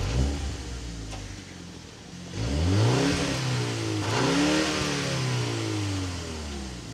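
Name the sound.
BMW M135i 2-litre turbo engine revving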